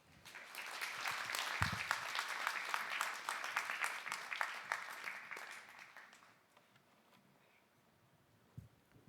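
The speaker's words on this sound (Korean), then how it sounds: "우리 나오실 때 중보와 응원의 박수를 부탁드립니다." A church congregation at a Korean dawn prayer service claps as a missionary in training comes forward. Steady applause fades out after about six seconds, leaving a quiet room with a few faint knocks.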